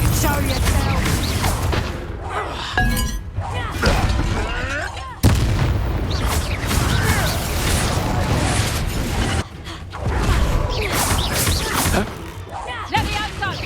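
The Bombarda and Confringo spells go off in the Hogwarts Legacy video game as repeated loud booms and crashing impacts over a dense, busy combat soundscape, with voices speaking throughout.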